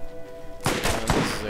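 A newly bought gun fires in Borderlands with a sudden burst of heavy, thudding shots, two or three close punchy reports after a quieter hum of game ambience.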